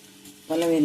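A bay leaf dropped into hot oil for veg pulao sets off a sudden close sizzle halfway through the brief moment, loud and steady after a quieter start.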